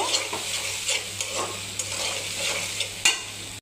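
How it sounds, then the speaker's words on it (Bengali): Tripe frying with turmeric and chilli powder in a pan, a steady close sizzle with repeated scraping stirs of a spoon against the metal and one sharper clack near the end. "এখন বটটা দিয়ে দিচ্ছি, দিয়ে কষিয়ে নিব"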